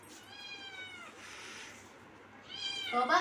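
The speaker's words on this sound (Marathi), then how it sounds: "ती मांजर पण मागायला लागली बघ" A cat begging for food meows insistently up close, a long drawn-out cry followed by a louder, rising meow.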